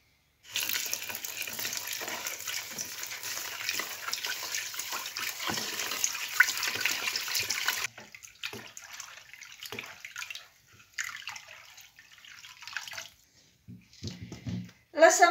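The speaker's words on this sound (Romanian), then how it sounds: "Urmează să adaug 5 litri de apă." Water poured from a carafe into a pot to make brine for traditionally pickled cucumbers, a steady splashing stream for about eight seconds, then short intermittent pours with pauses between them.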